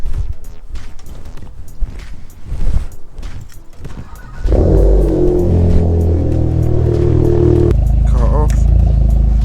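A Volkswagen Golf GTI engine cranks and catches partway through, then settles into a steady, close idle hum after some clattering handling noises and brief talk.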